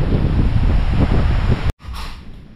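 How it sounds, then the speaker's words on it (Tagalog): Strong wind buffeting the microphone in loud, rumbling gusts, with a brief cutout before the roar returns slightly softer. "Lakas ang hangin."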